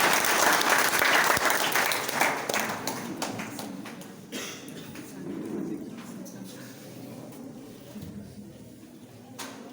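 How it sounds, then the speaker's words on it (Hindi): Enthusiastic applause from an audience at a school birthday celebration and career day, loud and dense at first, then thinning into scattered clapping that continues faintly to the end. "जोरदार तालियां।"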